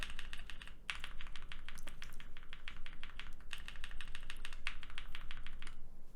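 Rapid, steady typing on a keyboard fitted with lubed Sunflower tactile switches, close up and alone, with dense clacks running evenly and two brief pauses.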